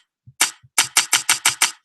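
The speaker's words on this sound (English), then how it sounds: "we have we have a rifle shot" Rifle shot sound effect for a Unity game, a sharp crack followed by a rapid series of six clipped metallic bursts in quick succession, loud and close with nothing else around it.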